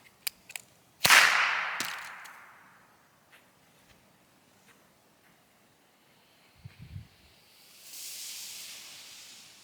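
A fully 3D printed airsoft smoke device fires with one sharp close crack and a long fading hiss, followed by fainter clicks, a low rumble and a later rising hiss; no talking.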